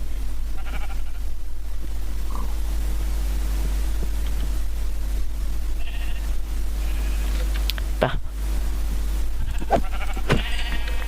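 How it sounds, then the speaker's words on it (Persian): A white sheep in Minecraft bleats in a few short, fairly faint calls over a constant low hum and background noise, with occasional sharper game clicks. "گوسفند سفید."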